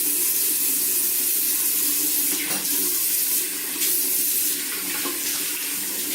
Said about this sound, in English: Go ahead, rinse out the razor.